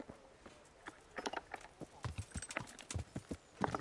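Horse hooves clip-clopping at a steady walking pace in Kingdom Come: Deliverance, a regular run of close, distinct hoof strikes that grow busier toward the end, with no talk over them.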